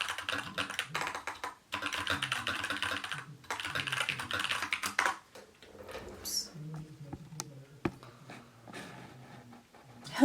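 Rapid bursts of typing on a computer keyboard, steady clatter broken by short pauses, fading into sparser keystrokes and quieter handling sounds toward the end.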